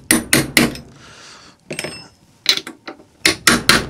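A socket wrench works a nut on a Simson Schwalbe M500 moped engine, giving close, sharp metallic clicks in quick clusters separated by brief pauses, with no talking.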